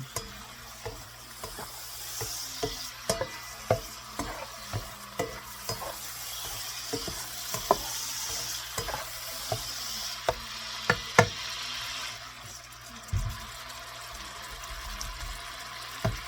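Shredded vegetables and meat for egg roll filling are stirred in a pan over a soft, steady sizzle, with a utensil scraping and knocking against the pan at a loose, regular rhythm, close by.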